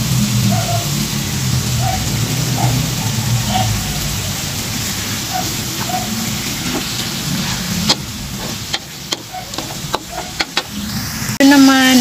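Pork sizzles in oil in a pan, with shrimp paste to be cooked alongside it: a steady frying hiss with soft stirring scrapes, then several sharp utensil clicks and a brief louder clatter near the end.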